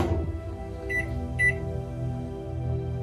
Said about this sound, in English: We're gonna microwave this cake for like what, almost 2 minutes